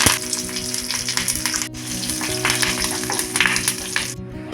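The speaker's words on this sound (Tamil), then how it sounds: "எண்ணெய் சூடானதும் கொஞ்சம் கடுகும் கொஞ்சம் கருவேப்பிலையும் போட்டு தாளிச்சிக்கலாம்" Loud, steady sizzling and crackling of mustard seeds and curry leaves frying in hot oil, up close and continuous throughout.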